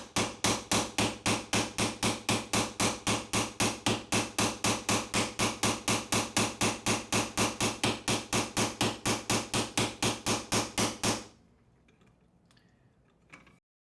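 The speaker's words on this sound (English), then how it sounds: "I can go ahead and peen that into place, as well as peen the front and the rear of the body together" Steady, rapid hammer blows peen a metal crossbar into a folk art hand plane body, about four strikes per second for roughly eleven seconds, close and loud, then stopping into quiet handling noise.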